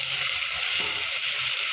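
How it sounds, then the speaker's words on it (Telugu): Ginger garlic paste frying in hot oil gives a close, steady, hissing sizzle that holds at an even level throughout, with no voices over it. "అల్లం వెల్లుల్లి పేస్ట్ వేగిందండి"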